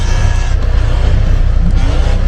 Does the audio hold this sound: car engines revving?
yes